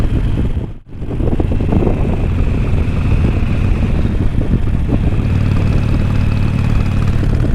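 A Harley-Davidson Sportster motorcycle idling nearby, a steady loud low rumble with wind buffeting the microphone and a brief dip near the start, no talk.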